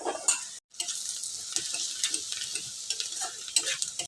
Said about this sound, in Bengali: এবার আমি ঘেটে নেব।